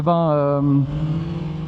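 Yamaha MT-09 Y-AMT motorcycle engine while riding, a steady close tone that climbs slightly in pitch, then drops abruptly and settles into a lower, rougher running note.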